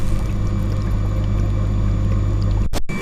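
Water rushing through a central air line in a fishroom, a steady close hiss over a low constant hum, cut off briefly near the end by a sharp dropout.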